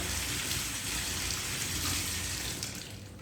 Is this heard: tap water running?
yes